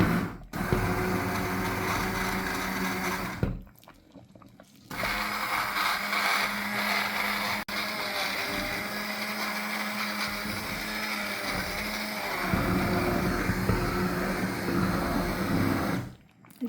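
A blender runs in long, steady, whirring stretches, loud and close, blending potato soup, briefly cutting off twice before starting again, with no voices.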